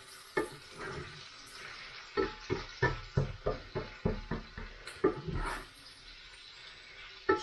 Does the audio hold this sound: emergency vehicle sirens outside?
no